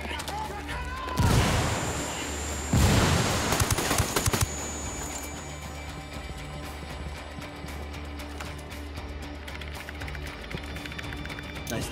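A grenade goes off in Ghost Recon Wildlands, giving a loud close blast followed by another burst of explosive crackle and gunfire. The noise dies away into quieter ambience, with talk nearby.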